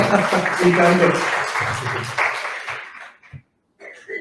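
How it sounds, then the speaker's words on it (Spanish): Applause from the audience at a members' gala, cheering a woman named María; dense clapping mixed with voices fills the first three seconds, then breaks off into near silence and scattered speech. "Un aplauso para María, que está haciendo trabajo doble"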